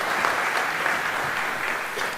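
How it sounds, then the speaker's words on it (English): An audience at a regional Nile Day event claps steadily for a country's representative, a short, even burst of applause at moderate loudness. "Let's give a round of applause to Sudan."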